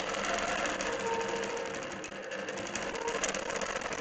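A longarm quilting machine stitches swirl patterns across a quilt, its steady, close motor whir and rapid needle chatter holding at an even level throughout with no breaks.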